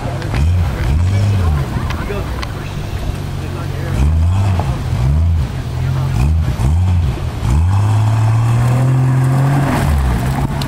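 A Jeep Cherokee on a reverse time trail at an off-road vehicle park in Hot Springs, Arkansas, its engine revving up and down in repeated loud surges with the pitch rising and falling, while bystanders talk and exclaim nearby.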